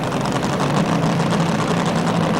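Aluminum Rodak naturally aspirated drag racing engine with no supercharger, idling steadily at a 1987 drag race, a continuous loud low rumble with no talk over it.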